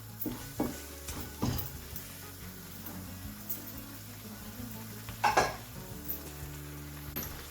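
Lamb chops masala fry in a pan with a soft, low sizzle, punctuated by a few sharp clinks and scrapes of a utensil stirring against the pan.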